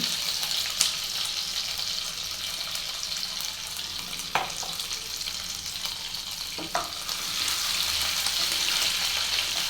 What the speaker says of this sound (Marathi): आता ह्याच्यामध्ये मी अद्रक लसूणची पेस्ट घेतले ती टाकते